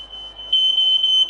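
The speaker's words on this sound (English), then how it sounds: "Oh, and my fire alarm has gone off." A home fire alarm sounds a steady, piercing high electronic tone that grows louder partway through, alone with no talking.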